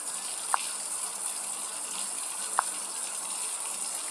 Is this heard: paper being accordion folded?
no